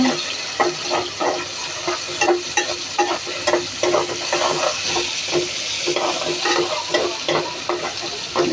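Onions sizzle in hot oil in a pan as a spatula stirs them in a home kitchen, with a steady frying hiss broken by regular scraping strokes, close and alone.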